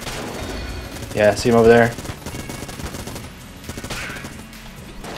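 Rapid gunfire from the Vulcan Cannon in the video game Enter the Gungeon, a steady rattling stream running under a voice throughout, with a louder burst partway through.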